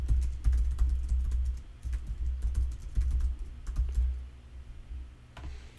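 Fingers type quickly on a computer keyboard, with dense close clicks in bursts separated by short pauses and a low hum underneath, no voices.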